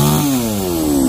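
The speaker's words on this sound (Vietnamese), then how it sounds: "Chắc cũng có thể là cưa thêm cây sao nhỏ nữa nha cả nhà." A chainsaw runs at a steady high rev, loud and close, while cutting a small sao tree outdoors, with no talking.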